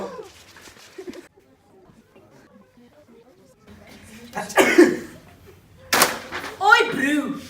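Several sharp, close coughs burst out after a quiet stretch, with people talking around them.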